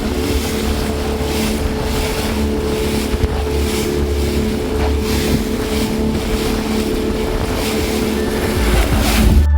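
Motorboat engine drones steadily on open sea off Lakshadweep, with wind and water wash over a continuous low hum that swells slightly near the end, no voices.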